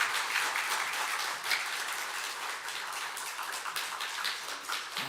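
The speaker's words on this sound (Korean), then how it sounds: "우리 환영하는 의미로, 선교사님을 격려하는 의미로 큰 박수로 맞아주셨으면 좋겠습니다" A church congregation at a Sunday service gives a missionary a big welcoming round of applause, dense even clapping that holds steady throughout with no voices over it.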